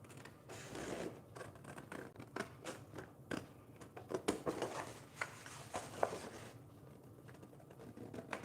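Scissors cut paper along a folded line for a small collage, with close crisp snips and rustling paper crinkles in an irregular rhythm, with no talking.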